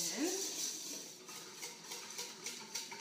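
A spoon stirs dry granola ingredients with cinnamon and salt in a bowl, giving faint, soft scraping and light clinks close by, with a brief voice sound near the start.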